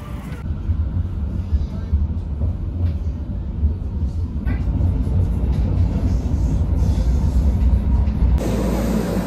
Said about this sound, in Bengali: আমাদের ট্রাম চলে এসছে, উঠবো।